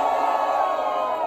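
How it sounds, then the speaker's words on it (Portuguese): A battle rap audience cheers for MC Meju at Batalha Da Leste, a dense, loud crowd roar of shouts and whoops sustained throughout the short moment. "Barulho quem gostou das rimas de Meju"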